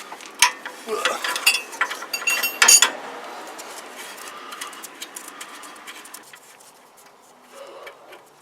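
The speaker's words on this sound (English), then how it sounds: "with a 7/8 wrench, it fits snug on there" A 7/8 wrench, extended with a second wrench as a breaker bar, loosens a ball joint bolt on a Toyota 4Runner, giving close metallic clicks and clanks with a loud burst partway through before settling into quieter ticking.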